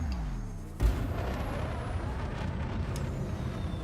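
A spaceship booster engine fires in Elite: Dangerous, starting with a sudden loud whooshing burst and settling into a steady, roaring rush of thrust that holds to the end.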